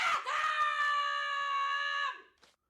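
A single sustained scream of about two seconds, loud and close, tonal and steady before cutting off abruptly, followed by a brief faint trailing sound.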